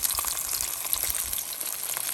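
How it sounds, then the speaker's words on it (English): Fish frying in hot oil for a Jamaican-style brown stew gives a steady, crackling sizzle with rapid popping spatters throughout, close and continuous with no talk. "Listen to that sizzle. This is my favorite part of frying the fish."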